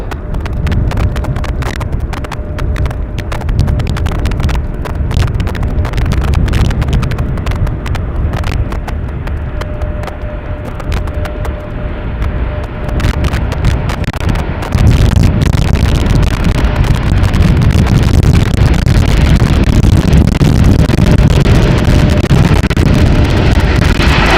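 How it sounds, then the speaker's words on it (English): Strong wind blasts across a microphone at an outdoor plane spotting spot at Amsterdam Schiphol during rainy, windy weather, a loud continuous roar with buffeting that grows heavier partway through. "The wind does seem to be picking up a little."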